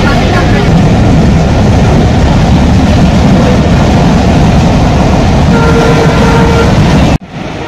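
Inside a carriage on the Khulna to Mongla train, a loud, steady rumble and rattle of wheels and wagon runs continuously, with voices mixed in, before cutting off abruptly near the end.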